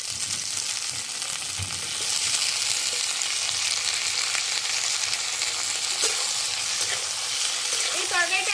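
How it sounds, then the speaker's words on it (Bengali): Capsicum and baby corn fry together in a pan for a vegetarian mushroom, sweetcorn and paneer dish, making a continuous hissing sizzle with light stirring scrapes and a faint clatter near the end. "এবার বেবিকর্ন আর এই এটাও এর মধ্যে দিয়ে দেবো দিয়ে একটু ভাজা ভাজা করে নেবো"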